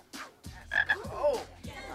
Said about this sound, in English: Yo, Demeter, I thought you were going to play with my frog.